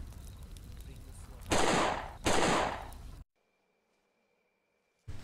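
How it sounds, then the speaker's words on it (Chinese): Two loud bursts of gunfire in the horror video game Urban Legends: The Dry Body crack over a low ambient rumble. Sudden silence follows, then the game's sound cuts back in. "后面那枪声是什么意思啊"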